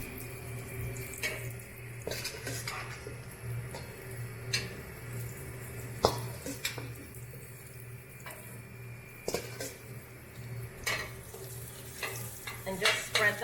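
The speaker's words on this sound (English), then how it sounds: "I'm going to place these vegetables right down on the grill," Carrots and sugar snap peas sizzle on a hot grill, with a steady loud hiss and scattered clatters and scrapes as the pieces are spread out.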